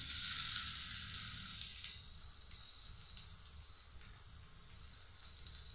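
Chopped onion sizzles in hot oil already seasoned with clove, bay leaf and dried red chillies, for a cabbage and fish-head dish. The frying hiss is steady and close, with faint crackles throughout.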